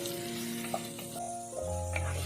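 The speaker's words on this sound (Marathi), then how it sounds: "बारीक चिरून ठेवलेला कांदा घाल कांदा पाच मिनटं परतून घे" Finely chopped onion sautéing in a pan with cumin seeds, a steady soft sizzle running throughout at moderate level, with a few faint clinks and stirring scrapes and no talk.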